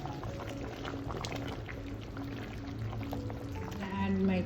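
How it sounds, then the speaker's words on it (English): A pot of chickpea curry bubbling and simmering steadily on the stove, a dense continuous gurgle that swells slightly louder near the end. "It's boiling."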